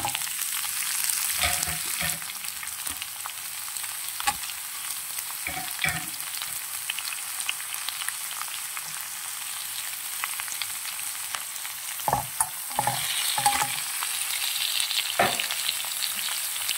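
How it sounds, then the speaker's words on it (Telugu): Onions frying in oil over a tempering of dals, mustard seeds, cumin, curry leaves and dry red chilies: a steady hiss of frying runs throughout, with occasional scraping stirs clustered near the start and end. "ఇది కొంచెం పచ్చి వాసన పోయేంత వరకు ఫ్రై చేసుకోవాలి ఆనియన్స్"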